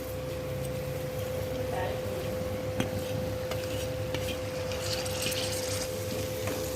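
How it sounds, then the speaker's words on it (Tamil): Mint and coriander with ginger garlic paste sauté in a pan for beetroot rice, a steady close sizzle and hiss with faint stirring scrapes throughout. "புதினாவோட பச்சை வாசம் போகிற அளவுக்கு நம்ம நல்லா வதக்கி எடுத்துக்கலாம்"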